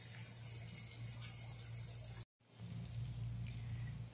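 Water heating in a vessel over an open fire gives a steady, close hiss and rush with a low hum underneath, broken by a brief silent cut midway.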